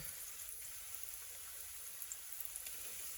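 Fish goujons fry in oil in a pan with a quiet, continuous hiss. Faint pops and crackles are scattered through it, and no voices are heard.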